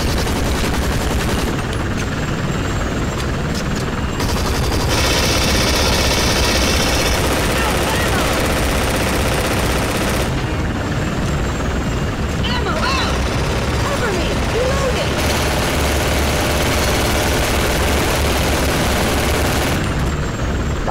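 Continuous loud gunfire in Hazard Ops aimed at a helicopter, dense bursts of shots layered with the helicopter's rotor drone and explosions throughout; someone speaks Spanish over the action.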